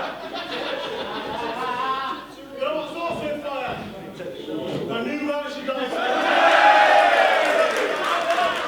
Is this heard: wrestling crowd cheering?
yes